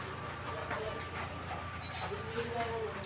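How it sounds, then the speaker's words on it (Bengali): A local train pulled in at Dayhat station, with a steady low rumble and hiss of the carriages and faint squeals over platform ambience, while voices chatter in the background. "তো এটা হচ্ছে আমাদের দায়হাট স্টেশন, ট্রেন চলে এসেছে।"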